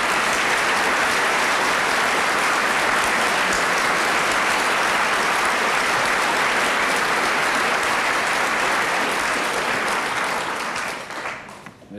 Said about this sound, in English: A sympathetic round of applause.